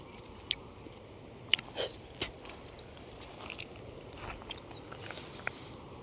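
Karonda berries being eaten outdoors: faint, scattered crunchy bites and chewing clicks, spaced irregularly over a quiet background with no talking.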